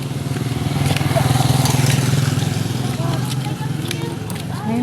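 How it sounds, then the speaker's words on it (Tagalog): Several motorcycles passing along a flooded street on the way to a public market, their engines a close, continuous chugging rumble, with a person talking over them. "Maraming dumadaan na mga motor."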